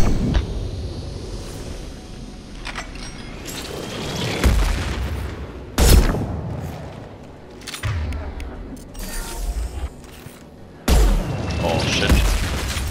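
Sniper rifle fire in the video game Mass Effect 2, several sharp heavy booming shots spaced a few seconds apart over a rumbling combat background.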